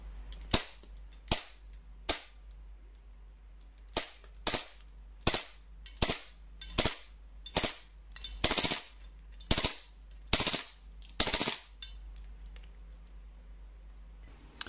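Tokyo Marui Xtrem 45 gas airsoft pistol firing on 134 gas with 0.20 g BBs at a 30-metre range: about fourteen sharp, loud cracks, each followed by a short mechanical clack, in a steady rhythm of roughly one every half second, no talking.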